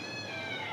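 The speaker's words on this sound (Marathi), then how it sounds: "मागं मांजर ओरडत आहेत" Cats cry somewhere in the background, a faint drawn-out meowing wail that swells louder just at the end, distant and thin against near silence.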